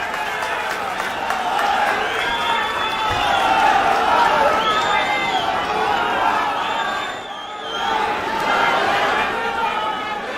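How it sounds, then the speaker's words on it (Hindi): Loud, continuous crowd noise at an outdoor political rally at Jantar Mantar in Delhi, mixed applause and cheering with chatter rolling on steadily, dipping briefly before swelling again. "जोरदार तालियों से स्वागत करिए।"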